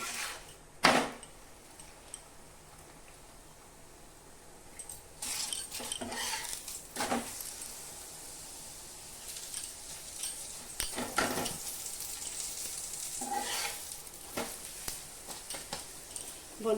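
Dal puri fries in a pan while utensils stir and scrape, producing a soft, continuous sizzle broken by sharp metallic clinks and clatters at irregular intervals, with no talking.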